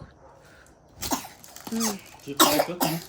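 A woman coughs at home with a child nearby: a few sharp, close coughs in quick bursts over quiet room noise.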